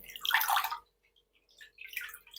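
Water drips and trickles off spinach lifted out of a cold water bath, two brief splashing bursts separated by a silent gap, with no voices.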